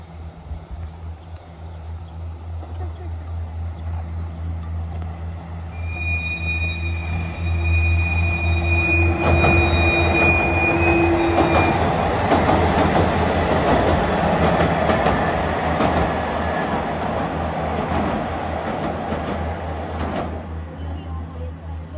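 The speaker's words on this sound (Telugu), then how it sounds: "సో పికాచు స్పెషల్ ట్రైన్ ఇప్పుడు ఒక 3 minutesలో వస్తుంది ఇక్కడికి." A Pikachu special train rumbles along the track past a village bus stop, its heavy roar and wheel clatter swelling loud midway and holding as it passes close by.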